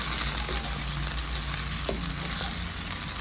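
Almond paste is stirred into a frying ginger-garlic spice mix in a pan, giving a loud, continuous sizzle with scraping stir sounds close up, and no talking.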